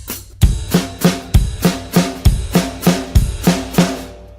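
A drum kit played with the feet and hands at once, the coordination falling apart into a loud, close series of uneven hits with cymbal wash, bass drum thumps and no voices.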